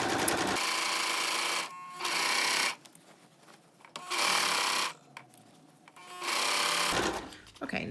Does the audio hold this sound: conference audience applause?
no